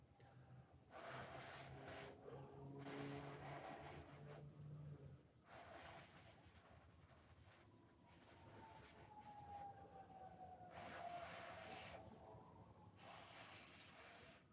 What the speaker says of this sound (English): the sirens are going crazy